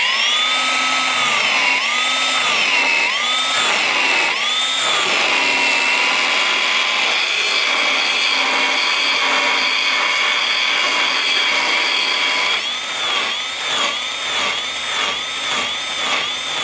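A power tool fitted with a 40 grit abrasive texturing wood, giving a steady loud whining drone with wavering pitch throughout, then a rougher, pulsing grind in the last few seconds as pressure on the surface changes; no talking.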